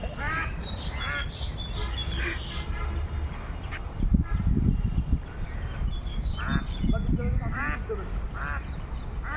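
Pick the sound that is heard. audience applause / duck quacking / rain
duck quacking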